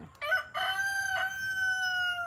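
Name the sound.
hens and roosters crowing and clucking in coop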